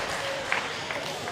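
Crowd noise at a weightlifting competition venue, a continuous murmur of voices and scattered clapping in the background, moderately loud and steady.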